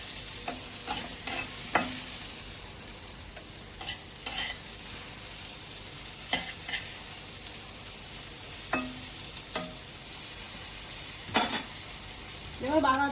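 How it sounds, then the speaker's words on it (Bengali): Brinjal frying in hot oil with salt and turmeric, a soft steady sizzle broken by scattered stirring scrapes and light clinks from the pan, heard close with no voices. "তো বেগুনটা একটু ভাজা ভাজা করে নিই"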